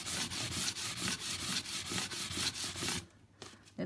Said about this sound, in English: It does sand pretty quick.